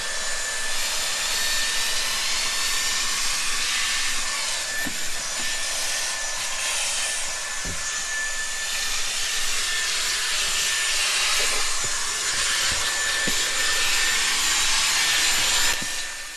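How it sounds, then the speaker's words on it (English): A vacuum cleaner works over the leather seats of a Kia Stinger, a steady close whooshing hum that holds for the whole stretch with faint scuffing, no voices. "we're just going to give it a quick vacuum as well"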